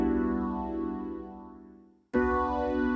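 Rhodes-style electric piano keys patch with a jazzy character, a warm sustained chord slowly decaying, then a new chord struck sharply, played alone.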